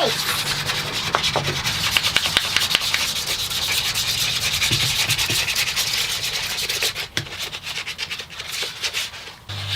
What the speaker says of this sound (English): We're sanding because there could be some cracks.